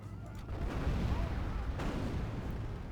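Artillery fires during a Third Age Total War battle with Dol Amroth troops, a dense, rumbling barrage of booms under continuous battlefield noise, with a stronger blast near the middle.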